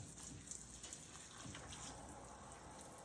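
A faint, steady rush of running water flows from a tap while a child's doll is washed, an even continuous wash of sound heard alone.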